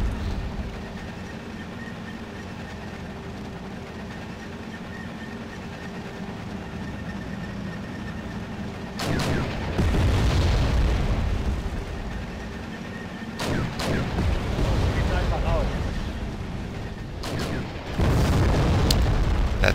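Tank gunfire and explosions in the Bruder gegen Bruder video game: a steady low rumble for several seconds, then loud booming blasts and bursts of firing in clusters toward the end.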